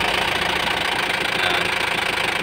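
An Isuzu 4JB1 turbo diesel engine, one that is hard to start and keeps stalling, runs close and loud with a steady, even rumble and faint knocking throughout.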